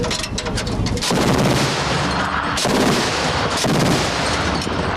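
Heavy rapid-fire anti-aircraft cannon blasts pound in a continuous stream, fired at ground targets, very loud and close, with a brief pause midway before firing resumes.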